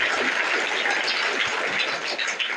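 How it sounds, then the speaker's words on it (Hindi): Audience clapping at a school general-knowledge quiz competition, a steady dense patter of many hands filling the room for a couple of seconds without a break. "एक बार जोरदार ताली हो जाए"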